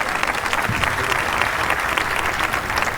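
An audience at a traditional music awards ceremony applauds a musician, a loud, continuous wall of clapping with no break.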